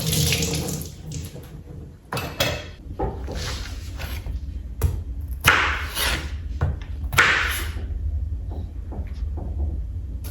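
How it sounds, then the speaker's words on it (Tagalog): Tap water runs into a sink to soak stove parts, with bursts of splashing and gushing broken by clinks and knocks of items being handled in the basin, heard close with no talking. "Babad natin sa tubig."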